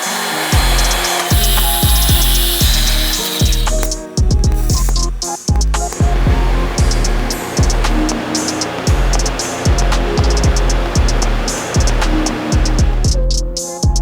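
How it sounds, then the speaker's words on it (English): A power tool cuts through the bent section of a turbo drain on an old project car, loud rhythmic grinding strokes repeating steadily with brief pauses between passes. "we're gonna modify the turbo drain, pretty much just cutting off the bend"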